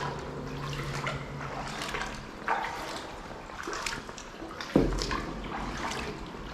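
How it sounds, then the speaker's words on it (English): Inside the Gosty Hill Tunnel on the Dudley Canal, water drips and trickles around a kayak, with a sharper single drop striking the hull amid quiet, echoing wet ambience. "That was something just dripped onto the back of the kayak, made a bit of a noise."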